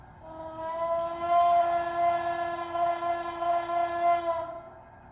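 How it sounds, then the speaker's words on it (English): A Bachmann HO scale 2-8-4 Berkshire C&O Kanawha model locomotive sounds its electronic steam whistle, one sustained chime-like blast of about four seconds with slight wavering, close and alone. "F2, which is the whistle."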